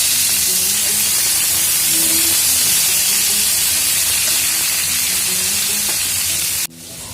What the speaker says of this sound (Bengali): তেলের মধ্যে দিয়ে সবজিগুলো ভালো করে ভেজে নেব।